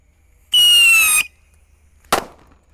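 Large pyrotechnic rocket lit at night, giving a shrill, tonal whistle for under a second, then a short sharp crack after a brief silence, fairly loud and nearby.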